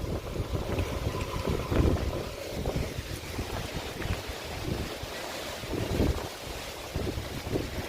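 An afternoon dust storm in Chhattisgarh, India, sends strong wind buffeting and roaring across the microphone in uneven gusts, continuous and rough, with no speech.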